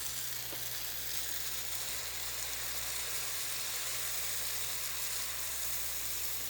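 Handvo batter mixed with Eno sizzles on a hot tava as a steady, continuous frying hiss, close and even throughout, with no talking.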